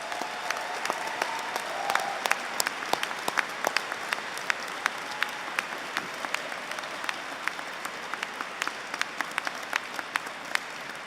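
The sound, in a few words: graduates applauding university staff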